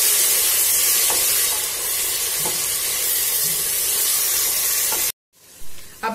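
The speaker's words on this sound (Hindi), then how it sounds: "एक मिनट इसे हम भूनेंगे ताकि इसका कच्चापन खत्म हो जाए।" Masala for aloo keema sizzles and fries in a hot pan, a loud, steady crackling hiss with faint stirring scrapes that cuts off abruptly near the end, followed by a brief quieter sizzle.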